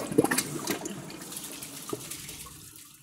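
Water runs into a Kohler Class 5 toilet tank as it refills, a soft trickling rush that fades toward the end.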